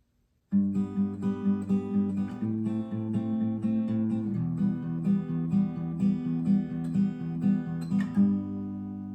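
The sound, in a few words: acoustic guitar playing intro of a song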